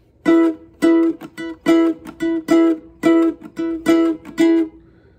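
A high-G-tuned ukulele strummed in a steady rhythm with bright, high-pitched chords, about ten even strums ringing clearly with no voices.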